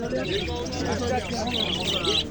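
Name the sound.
caged birds chirping at market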